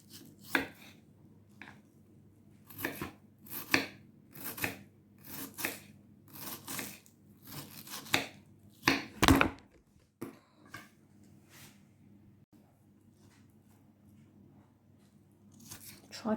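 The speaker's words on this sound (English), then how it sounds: "Now the onion can be a bit tough to cut, so just take your time, especially when you get to the edge." Knife chopping through a tough onion on a board, a run of sharp crunchy cuts in steady rhythm at close range, pausing and thinning out toward the end.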